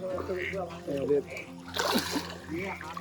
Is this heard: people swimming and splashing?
yes